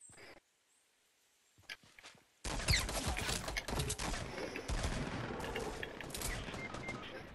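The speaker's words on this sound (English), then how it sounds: "Being shot. I can't see where they're shooting from." Gunfire erupts in a Fortnite Battle Royale squads match: after near-silence with a few scattered shots, a loud sustained volley of rapid shots breaks out and keeps going, close and dense.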